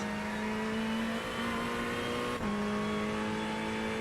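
A Ferrari GT3 race car at Imola in iRacing holds a steady loud engine drone with a sustained tone, then a brief dip at a gear change before the pitch carries on.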